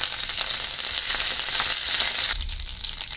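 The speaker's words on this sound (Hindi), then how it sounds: "और जब ये राई तड़कना बंद हो जाए" Mustard seeds and curry leaves crackle in hot oil for tempering while a wheat-flour breakfast is cooked. A close, steady sizzle with dense popping runs throughout, with no talking.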